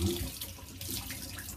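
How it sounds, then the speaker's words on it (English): Hot water runs from a two-way shower tap in a steady, close, soft splashing stream. The flow is brief and continuous, with no voices. "down here you've got the taps for the hot water, which runs normally"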